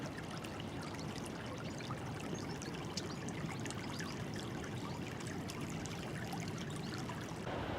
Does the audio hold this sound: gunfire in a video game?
no